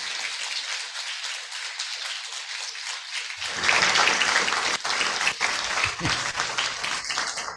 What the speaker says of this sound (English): let's have another round of applause for John McWhorter.